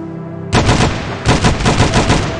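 Two bursts of rapid automatic weapon fire in the zombie survival game Dawn of Zombies: Survival, loud and close, with a brief pause between the volleys and no talking.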